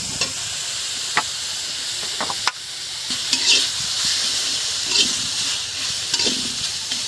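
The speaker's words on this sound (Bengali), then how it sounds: "তেলাকুচ শাক ভাজা, নামাই নিই।" Ivy gourd greens sizzle steadily in hot oil in a wok, with a constant hiss and a few scraping stirs of a spatula, close up.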